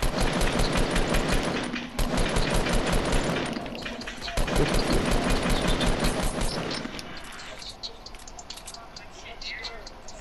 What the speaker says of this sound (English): Fuck, someone's shooting at me.